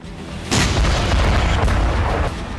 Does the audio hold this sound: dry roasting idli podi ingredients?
no